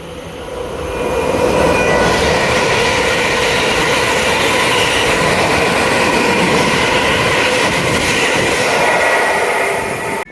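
A Greater Anglia train runs through Romford station, a loud, sustained rumble of wheels and motors that swells within the first second, holds steady, then cuts off near the end.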